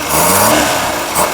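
Brief, loud rev of a small carbureted engine given a light blip of throttle, the note rising and falling smoothly without hesitation.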